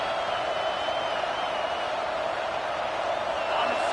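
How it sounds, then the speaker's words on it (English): A stadium crowd in a college football video game roars steadily throughout, a dense, continuous wash of cheering with no quiet gaps, swelling slightly toward the end. "this crowd coming to life here, trying to help the defense get a stop with the offense pinned back"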